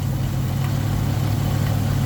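A 1977 Pontiac Firebird engine idles a little high while warming up, giving off a steady, close, low rumble with a faint even pulse and no voices.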